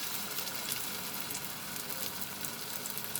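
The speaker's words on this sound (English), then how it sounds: "slowly I will put it in the hot oil" Prawn pakoras frying in hot oil on a medium flame, a steady close hiss and crackle of sizzling batter that holds evenly throughout.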